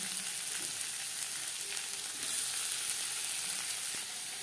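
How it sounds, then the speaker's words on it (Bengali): Chopped onions frying in refined oil in a pan for homemade chicken patties, a steady, dense sizzle that holds at an even level throughout with no talking. "সবার প্রথমে পেঁয়াজ ভেজে নেব।"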